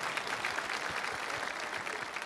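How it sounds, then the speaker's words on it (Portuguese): Audience applause at a church youth gathering, a steady, dense wash of clapping from a crowd that fills the whole moment without pause. "Palmas para eles."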